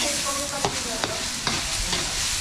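Burong isda, Filipino fermented rice-and-fish, sautés in a hot pan, giving a steady close sizzle with a few distinct scraping stirs of a utensil at regular intervals.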